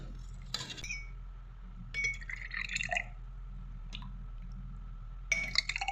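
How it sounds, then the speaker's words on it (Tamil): Nungu elaneer payasam, made with tender coconut water, palm fruit and cardamom, is transferred into a glass: soft drips and liquid trickles mix with light clinks of glass and spoon over a faint background hum. "கிளாஸுக்கு மாற்றிடலாம்."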